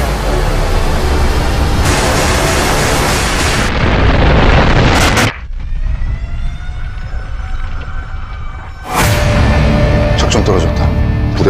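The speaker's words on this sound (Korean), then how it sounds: "백두산 화산이 폭발했습니다." Film sound effects for an eruption of the Mount Baekdu volcano: a massive roaring blast and rumble, then a sudden drop to a quieter, whistling aftermath before a second loud roaring surge.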